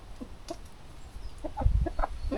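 A hen clucks softly in short, irregular bursts, nearby, with low rustling and handling noise in the background.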